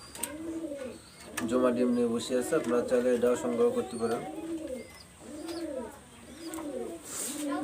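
Pigeons in a loft, including a Mysore male, give repeated rolling coos, some heard under someone speaking and some in the clear, close and fairly loud.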